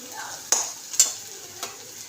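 Grated ginger hits hot oil with garlic in a pan for a masala tadka, a soft sizzle broken by a few sharp clinks of stirring, close and fairly quiet, without speech.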